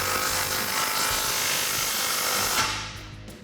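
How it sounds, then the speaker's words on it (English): A ratchet with a 13mm socket works the exhaust hanger bolt on a Jeep Wrangler JL 3.6L V6, a continuous close rasping whir that stops abruptly near the end. "I'm going to use that 13mm socket again in order to tighten that down."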